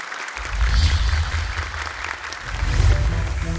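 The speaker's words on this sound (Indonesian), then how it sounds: "Boleh sekali lagi tepuk tangan untuk Ibam Palembang" A studio audience claps for a contestant on a Quran memorization competition show, steady applause with a low musical rumble underneath, fairly loud throughout.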